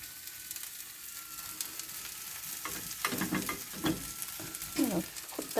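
Several dishes slow cooking at once on a woodstove, a low steady sizzle with stirring and scraping sounds growing louder in the second half, no talk.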